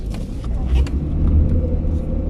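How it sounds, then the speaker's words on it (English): A car with a snagged handbrake cable grinding at the rear after going into bushes, heard as a loud, steady low rumble with rough scraping that persists through the whole stretch, close by. "something is very, very grindy at the back"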